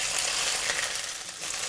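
Fish pieces fry in a pan for a Chinese braised fish and tofu dish, giving a steady, close hissing sizzle with no talk.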